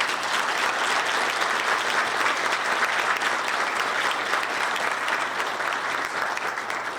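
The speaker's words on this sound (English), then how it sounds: "Let's have a round of applause for our..." Sustained audience applause fills a room at a chamber of commerce legislative breakfast in Peabody, steady and dense throughout with no break or voice over it.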